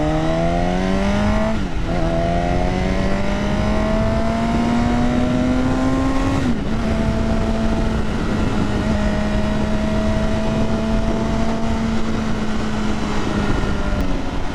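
An MV Agusta F4R sport motorcycle pulls hard in first gear, its engine note climbing steadily in loud, close revving sweeps, dipping at each throttle change before rising again, with no talk over it.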